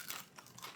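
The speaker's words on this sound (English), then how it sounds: "Good crunch on the breading." A fried onion ring with crisp breading is bitten into, giving a short, close crunch and crinkle that fades over under a second.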